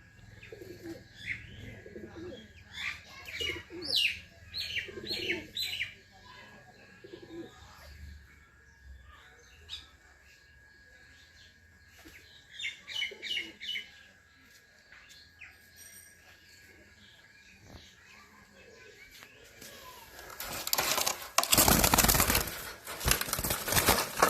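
Soft repeated cooing from Teddy pigeons comes in bursts with gentle pauses between, followed near the end by a loud rustling, flapping noise close by.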